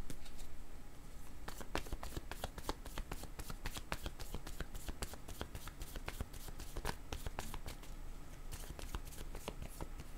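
A deck of oracle word cards is shuffled by hand: a close, busy stream of rapid papery flicks and riffles that runs without pause, with no speech over it.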